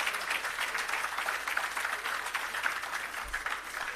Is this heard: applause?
yes